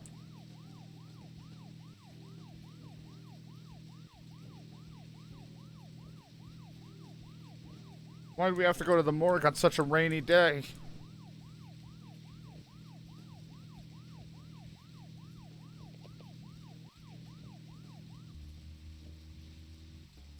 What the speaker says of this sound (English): I'm kind of glad it's quiet when we go through with that siren.